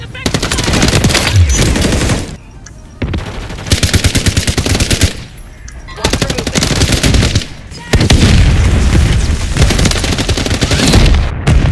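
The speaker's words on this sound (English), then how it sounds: "Taking effective fire!" Rapid automatic gunfire from a Call of Duty Modern Warfare III Demolition match, loud and nearly continuous, with brief gaps between long sustained bursts.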